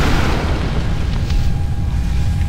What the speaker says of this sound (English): Boom, that was a big explosion.